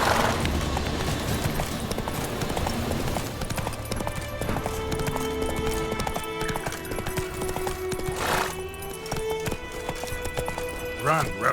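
Roach, a horse in The Witcher 3 video game, gallops with steady hoof clip-clops under game music and a brief whinny, while a voice speaks over it.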